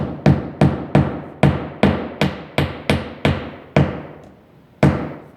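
A hammer drives nails into vinyl siding with about a dozen loud, sharp blows in steady rhythm, close up, each strike ringing briefly before the next, with no talk.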